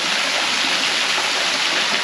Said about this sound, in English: Look how long the water's been rushing down there